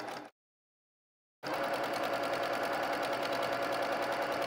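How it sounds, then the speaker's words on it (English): A domestic sewing machine stitches a quilted pillow cover, a brief burst of motor hum followed by a pause, then a steady close whirring run of stitching. "I'm sewing them across the bottom first, and then across the other side, which is the top"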